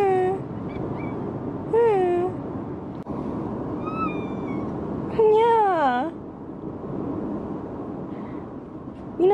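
Cats meowing at a vet appointment, with several drawn-out, wavering meows rising and falling, close and fairly loud over a steady background hum, with gaps between calls.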